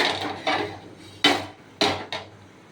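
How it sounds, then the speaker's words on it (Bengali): A spoon scrapes and knocks against a pan while spices, salt and ground pepper are stirred for mango achar, making a few distinct, fairly loud strokes spaced apart over a low background. "এটা একটু আমি নেড়ে নেব"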